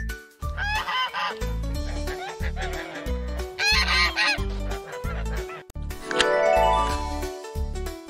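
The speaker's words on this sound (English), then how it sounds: "G is for g, goose." A goose honks repeatedly in loud, nasal bursts, set against steady background music with no talking.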